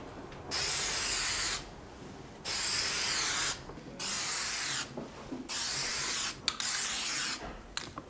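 An aerosol spray can hisses in five sustained bursts of one to two seconds each, separated by short pauses, close and loud, during selective demolition work in a mixed-use building.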